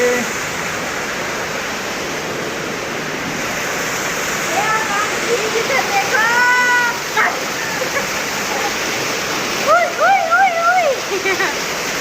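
Water flows and splashes continuously, with a person's voice and brief exclamations rising over the rushing sound partway through.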